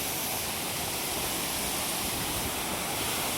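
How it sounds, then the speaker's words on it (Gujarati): Waterfall beside the Kedarnath trail near the Bhairavnath temple, a dense steady roar of rushing water filling the whole clip, moderately loud and unbroken, no voices. "મસ્ત ધોધ છે અહીંયા."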